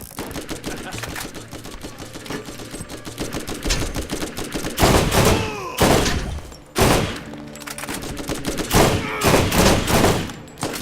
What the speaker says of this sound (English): S&S machine gun.